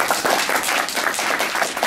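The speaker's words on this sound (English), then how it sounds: "How about a great hand for Henry and Jeff?" Audience applause at a public meeting, a dense, steady wash of many hands clapping that runs through the whole stretch without pause.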